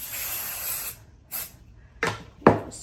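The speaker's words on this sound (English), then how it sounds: "Now I'm gonna get my batting spray and then just spray the layers in between." Aerosol batting spray misted onto quilt layers for a quilted letter bunting, a soft hiss followed by several short separate spray bursts, close and fairly quiet.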